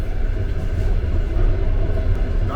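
Inside a moving Georgian passenger train, a steady loud low rumble of wheels and carriage fills the space, with faint rattles and no talking.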